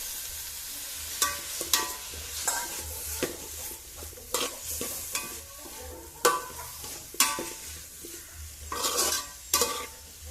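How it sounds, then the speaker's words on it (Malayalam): Three tomatoes sautéing with browned onions in a pan for chicken masala: a close, steady sizzle broken by repeated irregular scraping and clinking stirring strokes over about ten seconds, no voices. "നമുക്ക് ഇതിലോട്ട് ഇനി തക്കാളി ചേർത്ത് കൊടുക്കാം."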